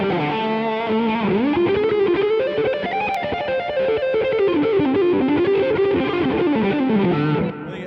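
Electric guitar through an amplifier with overdrive, sustained distorted notes and chords ringing loud and continuous, bending and sliding across the neck, played alone without talk.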